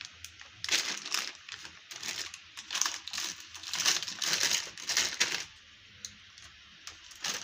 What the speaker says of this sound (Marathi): त्यात बटर पेपर ठेवायचा आहे